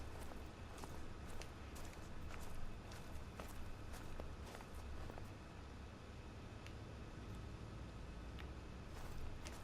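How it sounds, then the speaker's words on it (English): Footsteps in the hunting game theHunter: Call of the Wild, with a steady series of crunching steps on rough terrain continuing for nearly ten seconds over faint outdoor ambience. "I thought I heard footsteps."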